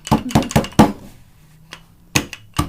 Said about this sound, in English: you take a rolling pin, basically just try to crush them